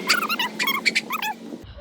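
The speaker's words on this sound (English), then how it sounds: "Lots of dogs. Every house here has a dog." A dog in a Hungarian village whimpers and yips in quick, high-pitched bursts, close and fairly loud, ending abruptly.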